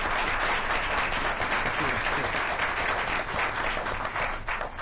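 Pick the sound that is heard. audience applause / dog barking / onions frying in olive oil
audience applause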